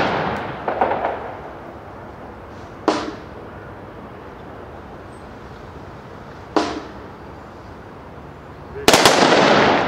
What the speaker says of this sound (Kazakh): Соғыста шейіт болған азаматтардың құрметіне үш дүркін оқ атылып,